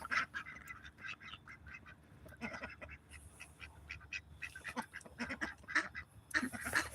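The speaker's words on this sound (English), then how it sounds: "see, that's our oldest duck, Speckles, right there" An old duck on a farm quacks repeatedly in the evening, rapid, uneven bursts of nasal calls at moderate distance, fairly faint against a quiet background.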